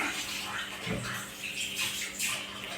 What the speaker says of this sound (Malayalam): കഴുകാതെ വെള്ളം ഒഴിച്ച് വയ്ക്കാം.